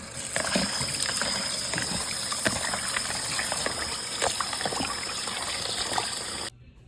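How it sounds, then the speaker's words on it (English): Tap water runs steadily while chunks of beef are rinsed under it in a kitchen, a close splashing gush with small clatters, cut off abruptly near the end. "I'm just gonna rinse off this beef until the water runs clear"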